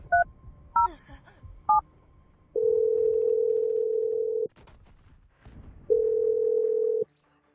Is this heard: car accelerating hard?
no